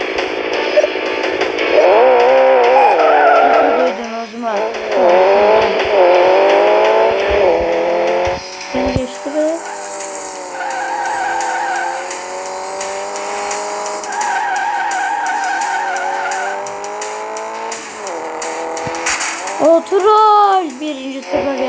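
A race car in a driving video game screeches through long tire squeals and skids over a loud, revving engine drone that rises and falls across repeated corners, with brief voice fragments in places.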